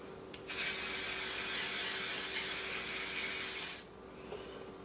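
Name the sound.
oil sheen hair spray sprayed onto a wig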